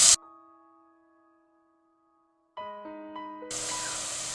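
Finely chopped onions roast in a hot pan with a steady, loud hiss and sizzle that starts abruptly near the end, after a short burst and a stretch of ringing tones.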